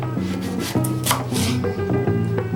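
Knife chopping through a potato on a board during homemade potato prep, a series of close, distinct cutting knocks at an irregular pace with no talking.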